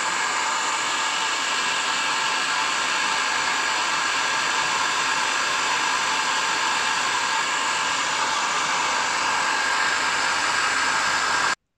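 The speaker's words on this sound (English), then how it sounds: "again we can use a hairdryer just to get rid of the bubbles" A hair dryer blows steadily with a loud, even airy hiss, running without pause from start to end before cutting off.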